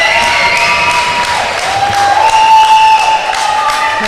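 Crowd applause and cheering ring out at an under-21 European netball match between England and Northern Ireland after a shot, a steady sustained roar with a whistle-like tone running through it.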